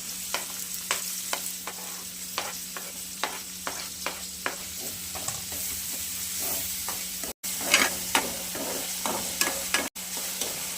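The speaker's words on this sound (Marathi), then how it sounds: "आता फक्त तळला आहे हा कांदा" Onion fries in a pan for a fenugreek curry, a continuous close sizzle broken by regular scraping stirs of a spoon, with a couple of brief gaps.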